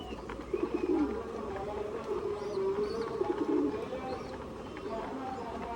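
Pigeons coo outside at dusk, a low soft cooing repeating in a loose rhythm at moderate distance, with steady background noise and voices talking faintly underneath.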